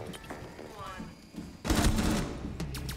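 Gunfire bursts in a Rainbow Six tactical shooter match, with scattered shots early then a loud sustained volley in the second half, heard close and mixed with players talking.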